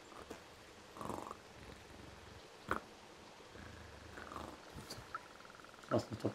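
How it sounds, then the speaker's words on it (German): A cat in the adventure game Stray purrs in soft, low rumbling bursts with quiet gaps between them, close and fairly faint over a light background. "Schnurren."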